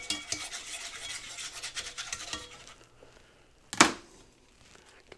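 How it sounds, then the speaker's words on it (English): Avocado oil being mixed around a preheated cast iron skillet, with a quick run of scraping and stirring strokes that fades, then a single sharp metallic scrape after a pause. "I'm just going to go ahead and add just a little bit of avocado oil in here. And just mix that around."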